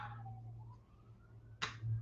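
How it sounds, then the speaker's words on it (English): A siren wails nearby, its rising and falling tone faint beneath a steady low hum in a home kitchen, followed by a brief sharp clatter and a low thump near the end. "That siren is close."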